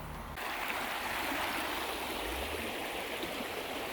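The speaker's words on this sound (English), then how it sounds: "this is that creek, Beaver Creek. And it flows." Beaver Creek rushes steadily beside a campground trail on Route 101 in Oregon, a constant broadband wash of flowing water close by with no voices.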